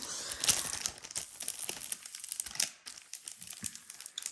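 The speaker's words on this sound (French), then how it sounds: "Je vais essayer de vous enlever le plastique pour essayer de vous montrer." Plastic wrapping being peeled off a diamond painting kit, with close, irregular crinkling and crackling bursts and brief tearing sounds, heard alone with no talk.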